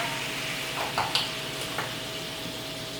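Half a cup of beef stock poured into a hot pan over medium-high heat, giving a steady broad hiss with a few brief clinks and bubbling pops, close and alone without talk.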